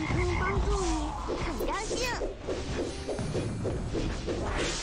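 A croaking frog effect from the Auto Chess mobile game comes in several warbling, pitch-sliding croaks over a busy mix of other game sounds, fairly loud and close.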